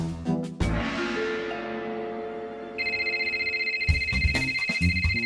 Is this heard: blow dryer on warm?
no